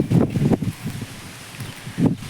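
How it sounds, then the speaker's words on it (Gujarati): Strong wind gusting through a chilli plant and grass in a field, with leafy rustles and broadband whooshes swelling at the start and again near the end, close to the microphone. "આજે કેટલો પવન છે. જોરથી વાયરો."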